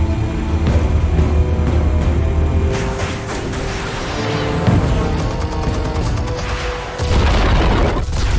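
Explosives detonate in Batman: The Telltale Series video game, with heavy booming rumbles and bursts layered over a droning low hum, loud and continuous with several strong hits.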